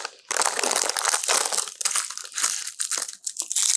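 A small plastic bag holding mounting kits, screws and brackets for a CPU liquid cooler crinkles and crunches steadily as it is handled up close, loud and continuous without talk.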